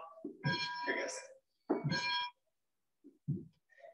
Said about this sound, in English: people might go to the schoolhouse bell and ring